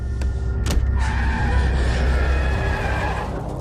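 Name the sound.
car braking hard and skidding in a film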